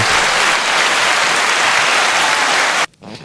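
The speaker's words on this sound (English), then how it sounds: "we need a round of applause." Loud, close applause from a small group on a podcast, steady and dense for nearly three seconds before cutting off abruptly, followed by a brief quieter trace.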